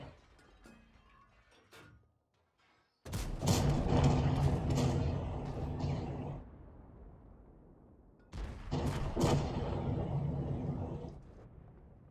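The KV-4 heavy tank's main gun fires twice in World of Tanks. Each shot is a loud, sharp boom that rolls into a long, rumbling decay with mechanical creaks, and the two shots come about five seconds apart.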